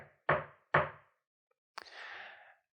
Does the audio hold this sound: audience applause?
no